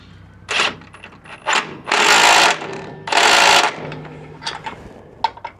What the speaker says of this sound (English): I've got my impact with a 13mm socket on it, which we'll use for the front here